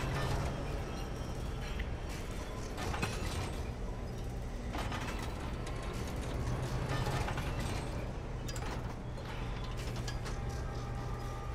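Cannon reloading mechanism in the video game Resident Evil Village, a continuous clanking, grinding metallic rattle with repeated ratchet-like clicks and scrapes over a steady low hum, without speech.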